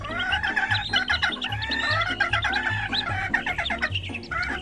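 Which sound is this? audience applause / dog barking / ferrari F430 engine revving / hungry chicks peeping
hungry chicks peeping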